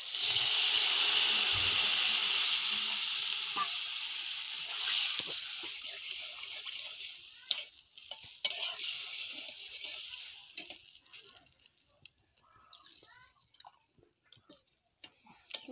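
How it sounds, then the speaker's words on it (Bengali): Water poured into a hot pan of Bengali egg curry, setting off a loud, close sizzling hiss that steadily fades over several seconds into scattered crackles and soft ticks, no talking. "বন্ধুরা জল দিয়ে দেবো।"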